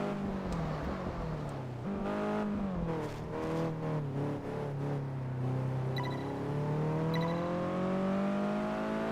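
A racing car in Test Drive Unlimited 2 revs hard at the start of an evening race, its engine note climbing and dropping through gear changes before settling into a rising, sustained whine.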